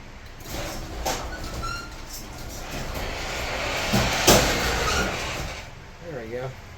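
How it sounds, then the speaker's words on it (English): A garage door is opened further, a rumbling, rattling slide with broadband noise that swells and peaks partway through, while someone talks nearby. "Now, I'm going to open my garage door a little more."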